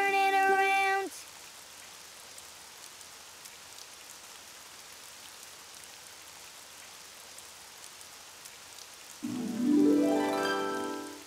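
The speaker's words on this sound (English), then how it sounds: "Oh, it's raining outside." Steady rain falls outside in an animated children's show, a soft even hiss that runs through most of the clip, with louder musical tones at the start and the end.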